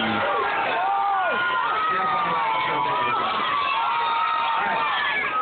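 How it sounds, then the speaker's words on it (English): A crowd of scouts and children at a summer camp cheers and whoops steadily for the final heat of a cardboard boat race, loud and continuous with shouting voices layered throughout. "Everybody out there cheer for your favorite campsite"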